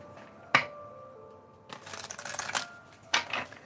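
A deck of oracle cards is shuffled nearby, with a sharp snap of cards followed by a longer riffling burst and another quick flutter, fairly quiet in a still room.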